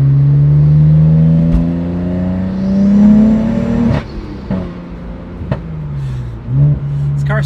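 A tuned BMW running on a base map revs hard while accelerating, its engine note climbing steadily, then sharp gear shifts cut in and the rising pull resumes, loud and close from inside the car.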